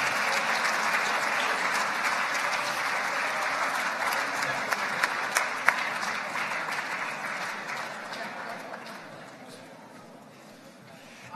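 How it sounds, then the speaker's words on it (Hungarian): A crowd at a nature photography awards ceremony applauds steadily, a dense wash of clapping with a few sharper claps standing out, gradually fading toward the end. "Nagy tapsot kérünk az alkotónak!"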